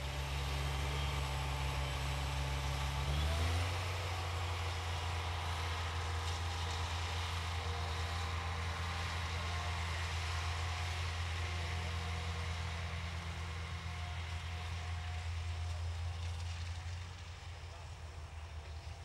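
A Maxtron tracked sugar beet harvester running nearby, a loud steady low engine drone with a shift in pitch early on, then a slight drop in level toward the end.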